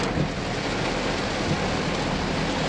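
Heavy rain pours in a dense, steady roar of broadband hiss with no breaks, loud and constant throughout, during stormy weather.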